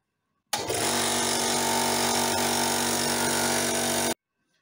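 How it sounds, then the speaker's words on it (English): A new air compressor starts and runs unloaded with its drain tap open, giving a steady, loud mechanical drone that cuts in abruptly and stops after about four seconds. "This way the compressor will run offload."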